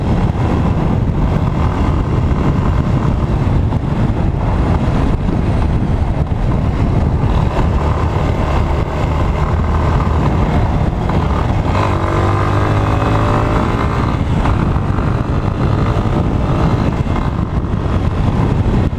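A motorcycle engine drones steadily at close range under heavy wind rush on a mountain road, with a slight rise and fall in pitch as it rides.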